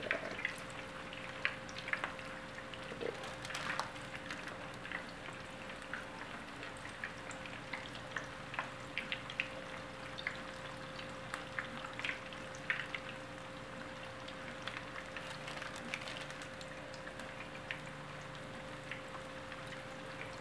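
Homemade tater tots sizzle in a skillet, a steady faint crackling fry with scattered pops and no talking.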